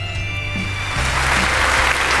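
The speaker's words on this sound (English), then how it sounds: "Give yourself a round of applause!" A brief burst of applause, a dense crowd clapping that grows fuller and louder over a couple of seconds, with a low tonal hum running beneath at the start.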